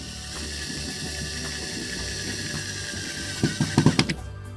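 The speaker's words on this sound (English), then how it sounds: "I'm going to put this middle screw in" A screw being driven in during track installation, heard as a steady mechanical whir followed by a quick series of ratcheting clicks near the end, with no talk.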